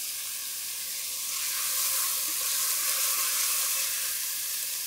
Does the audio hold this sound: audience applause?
no